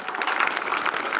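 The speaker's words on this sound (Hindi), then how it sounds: "तालियां नहीं रुकनी चाहिए बच्चों" Children applaud at a school Hindi poem recitation competition, a brief burst of dense, lively clapping from a roomful of kids.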